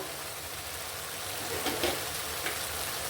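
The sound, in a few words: ground spices and turmeric frying in the meat curry pot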